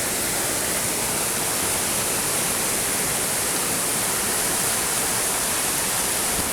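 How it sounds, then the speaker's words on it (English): A fast-flowing river at the top of Glenashdale Falls in Whiting Bay on the Isle of Arran makes a loud, dense, unbroken rush of water that stays constant and close, with no voices over it. "And that is the top of Glenashdale Falls."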